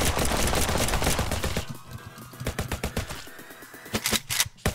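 Rapid video game gunfire from an AK-47, loud and close, with dense automatic bursts followed by sparser single shots and cracks.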